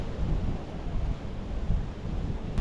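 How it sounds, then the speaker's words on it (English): Wind gusting across a beach at low tide, a steady rumbling roar buffeting close and loud throughout with no voices. "It's a little windy today"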